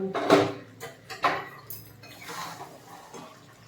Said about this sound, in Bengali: এবার ঢাকাটা খুলে আমি কষিয়ে নেব